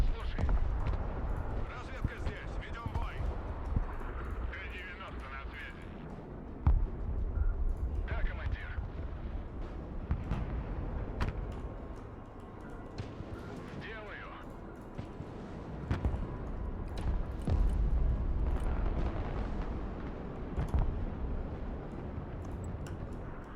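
A 2S19 howitzer fires in the video game Broken Arrow, delivering a series of scattered booming blasts at irregular intervals over a low battlefield rumble, with a voice talking throughout.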